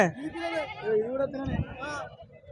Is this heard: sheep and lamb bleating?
yes